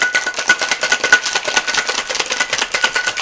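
Cocktail shaker rattling ice while shaking a daiquiri, a dense, continuous run of rapid clattering hits held at an even, close level throughout.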